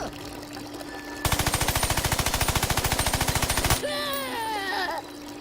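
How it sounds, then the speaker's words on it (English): Uzi firing in the Worms Battlegrounds video game, a rapid, evenly spaced burst of loud synthetic gunshots lasting a couple of seconds, followed by chirpy, high-pitched cartoonish worm voices and game sounds. "So far we've seen the punch, and we've seen the Uzi so far."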